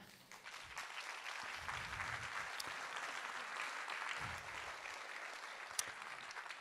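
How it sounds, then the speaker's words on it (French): Applause for institutional and club partners at a theatre season presentation, a fairly quiet, distant, steady patter of many hands that holds throughout, with faint murmuring voices underneath. "Vous pouvez les applaudir"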